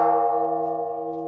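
A pagoda bell rings in ceremony, one sustained, resonant tone with steady harmonics slowly fading, heard alone without voices.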